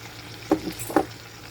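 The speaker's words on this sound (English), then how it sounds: "Mix this all together." Harissa butterbeans being stirred together in a hot pan, with two distinct scraping stirs over a steady low sizzle close by. No one speaks.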